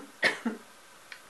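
A single person coughs twice in quick succession, close and fairly sharp, followed by a faint small throat sound in an otherwise quiet room.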